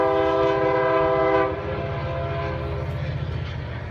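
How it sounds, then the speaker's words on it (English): A freight train rumbles past close by near a train station at night, its horn blaring in loud sustained chords for the first second and a half before the steady clatter and roar of the cars continues alone. "That's a train, freight train."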